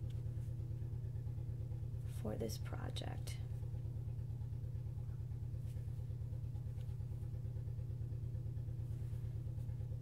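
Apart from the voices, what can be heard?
small putt-putt tractor engine outside the window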